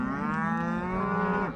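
Cattle on a Montana ranch give a single long, loud, close moo that holds steady for over a second before dropping off at the end.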